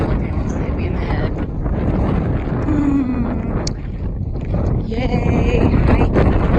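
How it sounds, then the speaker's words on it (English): Steady wind buffets the microphone with a low, continuous roar throughout on a hiking trail near Pinedale, Wyoming, with brief faint voices mixed in. "Now it's windy."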